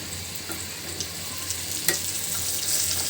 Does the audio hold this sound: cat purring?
no